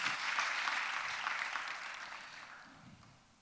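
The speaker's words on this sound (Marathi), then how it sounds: "Let's clap our hands." Applause at a Sunday church service rises in a soft, distant wash of many hands, then slowly fades out over a few seconds, with no talk over it.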